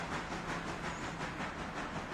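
Locomotive in the Railroader game easing backward onto a train, a steady close rumble with faint rhythmic wheel clatter and airy hiss running throughout, no talk.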